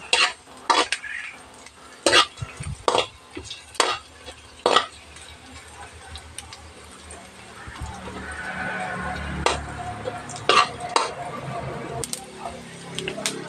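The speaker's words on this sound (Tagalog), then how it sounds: "Gisa muna natin yung pusit para madali siyang maluto." Squid sautéing in a pan, a low frying sizzle under repeated sharp clinks of a utensil stirring against the pan, with a voice talking briefly.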